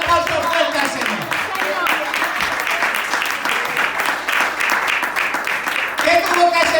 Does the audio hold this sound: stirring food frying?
no